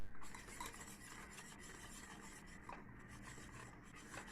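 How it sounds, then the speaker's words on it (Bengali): Sugar and eggs stirred together in a bowl for a stovetop coffee cake batter, giving a faint, continuous rubbing and scraping of utensil against bowl with small rhythmic swishes, no voice. "এবার চিনি আর ডিম এটা ভালোভাবে মিক্সড করে নিতে হবে।"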